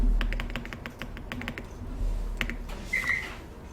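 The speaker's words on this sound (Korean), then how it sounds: "키보드에서 F4를 눌러주세요." Keys on a computer keyboard click in a quick run of light, close taps during an Excel spreadsheet lesson, with a short pause before a few more strokes.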